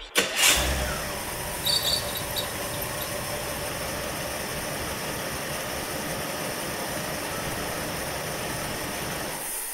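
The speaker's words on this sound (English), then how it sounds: "With the ignition module swapped, let's hit the key and see if it fires." GM engine with HEI ignition and a freshly swapped ignition module catches after a brief crank and settles into a steady, loud idle heard up close.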